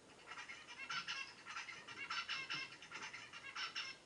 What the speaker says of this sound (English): we're now once again going to listen to the song of an adult zebra finch